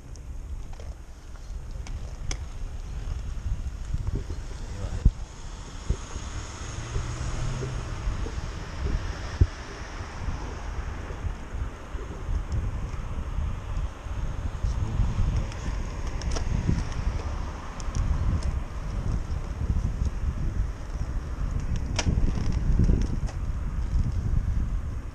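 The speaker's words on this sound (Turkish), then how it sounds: "Arkadaşlar rüzgara karşı pedal çeviriyoruz." Gusty wind roars and buffets the microphone while a cyclist pedals into a headwind on a rural road ride, a constant low rumble with sharp rustling bursts throughout.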